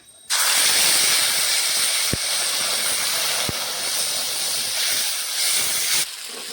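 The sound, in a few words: ginger, chili and cumin paste sizzling while frying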